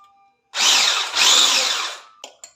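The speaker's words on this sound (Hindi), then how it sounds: "इतना बीट करना है कि ये थोड़ी थिक हो जाए।" An electric beater whips cream for a dessert, giving a loud, close, high whirring buzz of about one and a half seconds that dips briefly in the middle, followed by a couple of short clicks as it stops.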